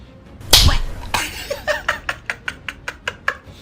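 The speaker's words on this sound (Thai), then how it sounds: "แต่ถ้าเป๊ป ยื่นหัวมาให้คอปตบมันก็จะดัง" A sharp slap lands, then a second hit, followed by a quick run of rhythmic tapping sounds, close and loud.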